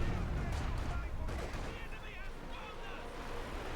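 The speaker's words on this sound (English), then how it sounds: "Katyusha firing here straight into the infantry and the support weapons here" Katyusha rocket artillery in Company of Heroes firing into infantry and support weapons, a dense rumbling barrage of rapid blasts sustained throughout at steady loudness, with faint talk underneath.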